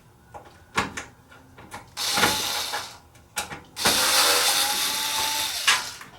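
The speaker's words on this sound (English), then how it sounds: "Remove a couple screws," Screws come out of the base of a shop machine with a power driver, short clicks and taps followed by two sustained whirring bursts of the motor at close range, with no talking.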